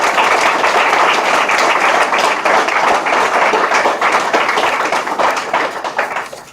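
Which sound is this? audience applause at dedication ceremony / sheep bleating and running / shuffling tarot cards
audience applause at dedication ceremony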